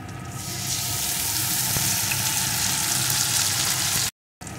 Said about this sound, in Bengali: পেঁয়াজ কুচিটা একটু ভেজে নিয়ে যে মশলাটা আমি পেস্ট করে রেখেছিলাম ওই মশলাটা এর ভিতরে দিয়ে দেব